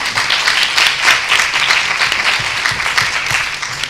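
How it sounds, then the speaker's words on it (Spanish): An audience at a conference debate session breaks into loud, sustained applause, dense clapping filling all four seconds at steady volume with no voices over it. "la gente te quiere aplaudir, Arcadio."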